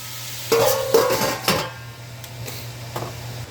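Beef browns in a pot for a beef stew, a low steady sizzle running underneath a few sharp clanks of a utensil scraping and stirring against the pot before it quiets to soft frying.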